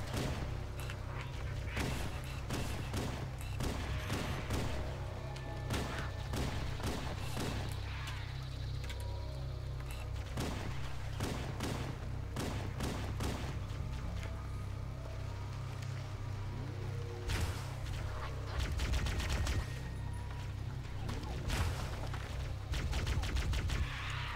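Rapid gunfire in Halo: Combat Evolved, dense bursts of shots cracking in quick succession over a constant low rumble, running almost without pause and growing heavier near the end.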